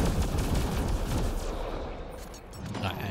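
Relic weapon firing in Mass Effect Andromeda, a dense, continuous burst of loud crackling shots that fades slightly before picking up again near the end, with no talk over it.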